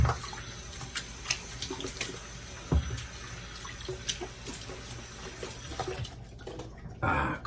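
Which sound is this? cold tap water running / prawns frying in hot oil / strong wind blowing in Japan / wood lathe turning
cold tap water running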